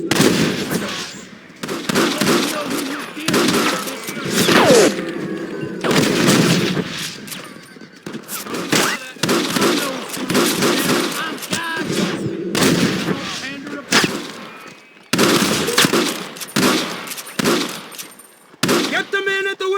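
Dense gunfire rattles through a Red Dead Redemption shootout, loud bursts of rapid shots and single cracks in clustered volleys with short gaps, while voices shout over the fighting.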